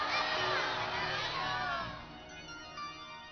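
A large crowd of devotees at a Bhagwat Katha gathering shouts and cheers together, a loud, dense mass of voices that swells and then fades toward the end.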